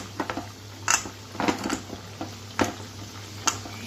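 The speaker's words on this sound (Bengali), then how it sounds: "দেখুন পকোড়াগুলোকে আমি ডুবো তেলে এরকমভাবে ছেড়ে দিলাম।" Chowmein pakoras deep-frying in oil, a steady low sizzle broken by several sharp clinks and stirring knocks of a utensil against the pan, close and without talk.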